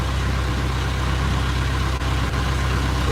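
A fishing boat's motor runs steadily as the boat cruises straight across a cove, a continuous, loud, even drone with a low rumble and no voices over it.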